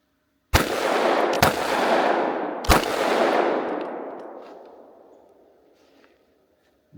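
A loaded gun fires three sharp, loud shots during a cold weather test, the first two close together and the third about a second later, each leaving a long fading echo.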